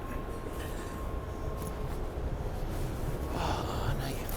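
Commuter train ride heard from inside the carriage, a steady low rumble and broadband rolling noise running throughout, with faint breathy sounds and soft shifting near the end.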